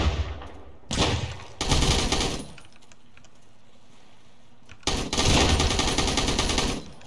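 An enemy's shotgun fires in the survival game Sunkenland, loud harsh blasts that arrive in three dense bursts separated by quieter gaps.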